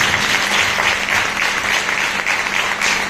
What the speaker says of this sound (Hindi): तो जोर से ताली